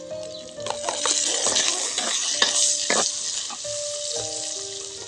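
Onion frying in a pan for guisadong miki, with steady sizzling and repeated scraping clinks of a utensil stirring against the metal, close and alone without talk.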